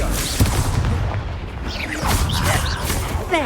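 In Hogwarts Legacy, the Confringo blasting spell goes off as a crackling burst and boom, trailed by whooshing, chirping magical streaks and rumble across a short, busy duel.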